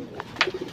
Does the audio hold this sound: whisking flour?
no